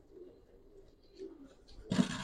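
Pigeons coo softly in a couple of low, faint murmurs, followed by a sudden louder burst of noise at the end.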